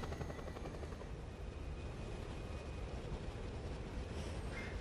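Helicopter in the video game Just Cause 2 makes a continuous, fairly loud rotor and engine drone that holds steady throughout, with no voices.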